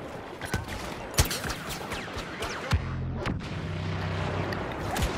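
Thermal imploder thrown in a Star Wars Battlefront match, going off amid sharp blasts and crackling gunfire, with a sustained low droning rumble after the main burst, loud and busy, no talk.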